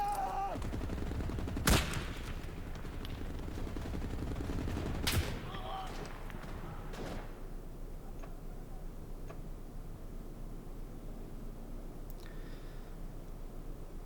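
Gunfire from the World War II shooter game Enlisted, with two sharp loud shots followed by fainter distant crackling and popping over a constant background rumble of battle.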